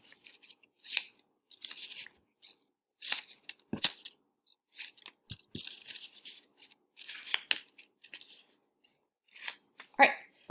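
Paper word strips snipped with scissors in a series of quick separate cuts with short pauses between them, close and fairly quiet, with a little handling noise and occasional soft speech.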